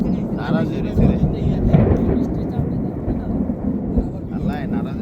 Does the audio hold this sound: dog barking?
no